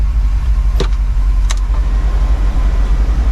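A repaired Ford Fairmont engine runs loud and close with a low, steady rumble, broken by a couple of short sharp bursts early on.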